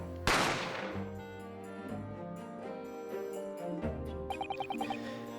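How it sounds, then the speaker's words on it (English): A single loud gunshot crack in an Ace Attorney-style murder-mystery video game, ringing out sharply at the start over a sustained game music backdrop that continues with tonal notes afterward. "I didn't have time to think about where the sound of the gunshot had come from."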